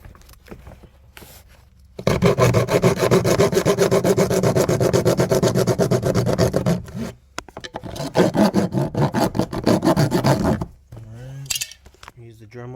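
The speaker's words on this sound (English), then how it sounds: "Alright, use the Dremel real quick." A Dremel rotary tool cuts into a fog light assembly on a 1999 Honda Civic coupe, two long loud grinding bursts split by a short pause, with a voice briefly heard at the end.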